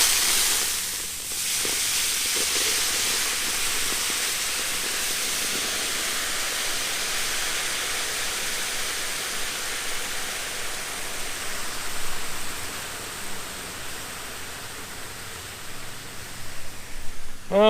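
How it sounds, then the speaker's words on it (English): Steady broadband hiss of steam rising off a boiling discada pan of taco meat, a continuous airy rush that holds fairly even for the whole stretch with faint background noise. "so we're gonna get some steam here."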